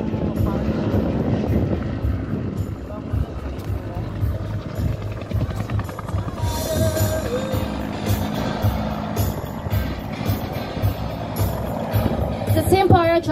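Rescue aircraft flying low and slow over a parajumper helicast during a search and rescue exercise, a steady rotor and engine drone running throughout, with a voice speaking over it.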